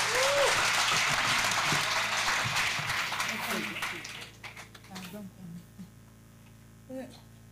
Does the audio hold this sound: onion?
no